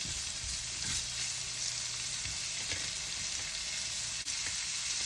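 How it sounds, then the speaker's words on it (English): Seasoned shrimp, a pound of them, frying in olive oil in a pan, a steady loud hiss and crackle of sizzling with occasional stirring knocks, no talk. "We're gonna go ahead and get that tossed up in the pan."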